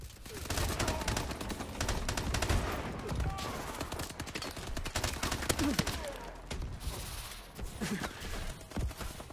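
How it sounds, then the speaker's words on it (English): Rapid bursts of pistol fire from an MP-443 Grach set to burst mode in the shooter game Call of Duty Advanced Warfare, with repeated sharp clusters of shots over several seconds amid game background noise. "it is a burst fire gun"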